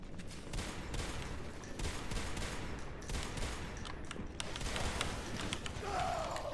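Pistol shots in the sci-fi shooter Natural Selection 2, a dense, continuous barrage of rapid gunfire filling the whole stretch at steady loudness, with no talk over it.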